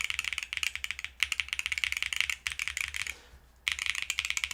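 Mechanical keyboard keys, J and H on an M60 build with stock lubricant, pressed in rapid repeated clacks, close and crisp, with a brief pause before the typing resumes.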